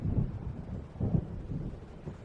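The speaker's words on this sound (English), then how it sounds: "It seems there's a storm coming" Thunder in the video game Alan Wake rolls in low, muffled rumbles at an even pace, soft and distant, with a hint of wind.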